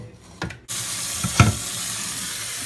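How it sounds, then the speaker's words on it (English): Tap water runs into a pot for boiling noodles, a steady rushing stream from a kitchen faucet after a brief clatter, continuing at close range. "Fill it up. Turn the water off."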